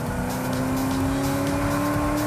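A supercharged sports car engine roars steadily close by as it accelerates, a strong droning tone holding loud and constant throughout with no voices.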